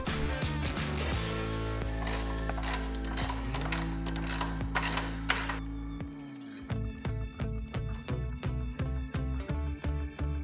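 A ratchet wrench loosens bolts on the upper A-arm of a Can-Am Maverick X3, starting over a steady low mechanical hum and then clicking in a fast, even series of sharp, close ratchet strokes once the hum stops.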